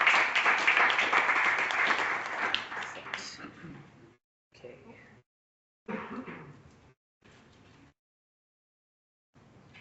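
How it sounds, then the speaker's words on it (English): An audience at a public workshop gives a presenter a round of applause, steady for about four seconds before fading, followed by short bursts of talk with silent gaps. "Let's give her another round of applause."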